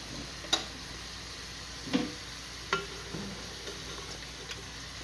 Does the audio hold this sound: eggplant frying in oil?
yes